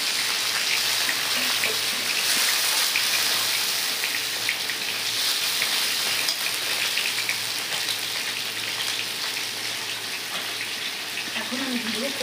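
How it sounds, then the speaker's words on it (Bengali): Chopped tomato sizzling in hot oil with fried ginger, garlic and onion, a steady close crackle and hiss like light rain that runs unbroken throughout. "এখন আমি এর ভিতরে দিয়ে দেবো টমেটো কুচি"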